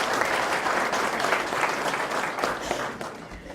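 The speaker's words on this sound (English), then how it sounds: "I need you maybe to give him a round of applause once again." Audience applauding for a graduate at an HSK Chinese-language graduation ceremony in Zimbabwe; steady, dense clapping from a full room, sustained throughout.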